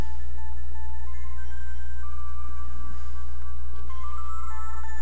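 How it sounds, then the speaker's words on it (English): Old cell phone ringtone in the video game The Charnel House Trilogy, a repeating electronic melody in steady tones over a constant low hum and game ambience, with no voices. "I think the ringing's coming from in here."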